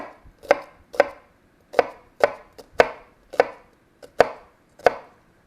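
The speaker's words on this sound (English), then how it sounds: "And this is how to properly chop an onion." An onion chopped with a knife on a board for a fish ceviche, giving about a dozen crisp, close knocks in an uneven rhythm with short pauses, heard alone without talk.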